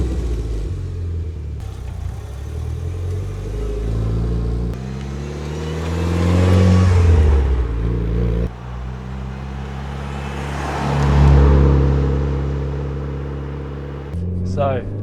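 Modified, imported Mitsubishi Evo IX wagon, ECU-tuned, driving on country lanes: a steady low engine drone and road rumble that swells twice as it accelerates, with people talking inside the cabin over it.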